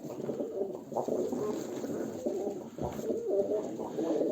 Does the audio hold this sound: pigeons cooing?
yes